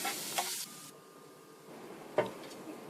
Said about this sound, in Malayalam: ഈ പേസ്റ്റ് ചേർത്ത ശേഷം പതുക്കെ ഒന്ന് ഇളക്കി കൊടുക്കണം നന്നായിട്ട്